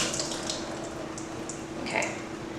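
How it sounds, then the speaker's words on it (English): Soaked dates being drained: a steady, continuous trickle and splash of running water, close and even throughout with no voices. "I've got some dates that I've soaked. I'm going to go ahead and drain them."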